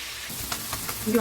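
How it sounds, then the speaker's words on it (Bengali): Marinated river katla fish sizzles softly in oil that onions were just fried in, a brief, fairly quiet hiss with a few small pops near its end. "এবার এই পেঁয়াজ ভাজা তেলের মাঝে আমি ম্যারিনেট করা মাছগুলো দিয়ে দিচ্ছি।"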